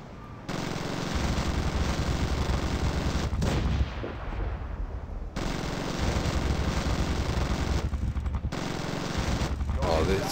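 Cannon fire from a gunship in the video game Zombie Gunship Survival roars loudly and almost without pause, a dense, sustained barrage broken by two brief lulls.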